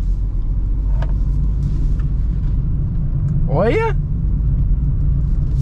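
A Peugeot 208 car drives through a curve at night, with a steady, loud low engine and road rumble heard from inside the cabin and a short spoken exclamation partway through.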